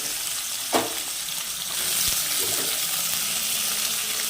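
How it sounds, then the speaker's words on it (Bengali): Steady hiss of potatoes frying in hot oil. A brief clatter comes early, then the sizzle swells louder and stays constant. "কড়াইতে তেল দিয়ে দিয়েছি প্রায় কড়াই তেলটা গরম হয়ে গেছে চলো এবার আলুগুলো ছেড়ে দেবো আমি"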